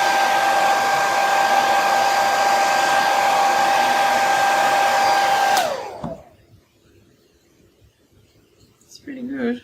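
A hair dryer blows on white stencilled paint on kitchen decor, a loud, steady whine that cuts off sharply at about 5.6 seconds, leaving near silence and then a faint stir of movement.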